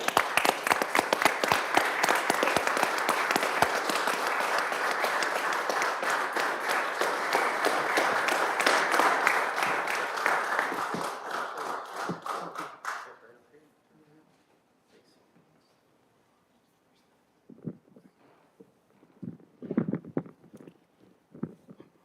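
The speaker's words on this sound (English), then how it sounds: "let's a large round of applause for our Veteran of the Month, Jerry" Meeting attendees at a county commissioners meeting give a Veteran of the Month a long, steady round of applause for about thirteen seconds before it stops abruptly, followed by quiet room sounds and brief talking.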